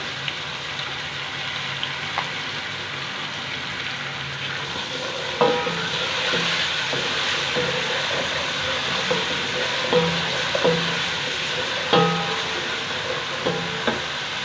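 Steady sizzling of onions frying in a pan with garlic paste for a kaleji (liver) dish, with occasional clinks and scrapes of a spoon stirring, no talking.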